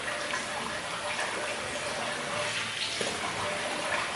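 Tap water runs steadily as a face is rinsed after a wet shave with a Merkur 34c razor, a constant broadband splash throughout with faint voice traces.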